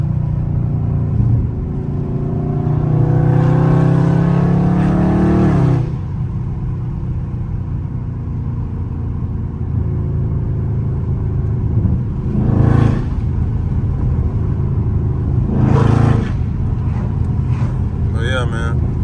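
A Dodge Scat Pack muscle car driven in busy traffic revs in several loud bursts, a deep rumbling roar rising and falling between quieter stretches of cabin noise and speech.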